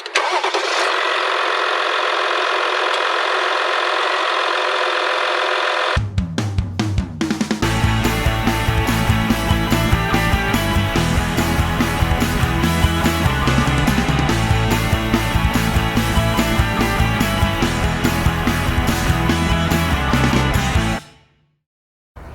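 A 2020 Jeep Wrangler with the EcoDiesel engine, 260 horsepower, 8-speed automatic and 4-wheel drive, cranks over after a few seconds of background hum and settles into a steady, loud, close diesel running note that continues alone, then cuts off at the end.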